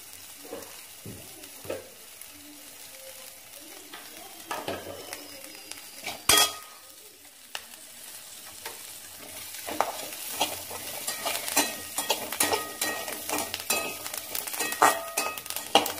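Ingredients for a village-style fish curry are sautéed in a pan, a soft sizzle rising over time under frequent scraping, stirring and clinks of a utensil against the pan, close by.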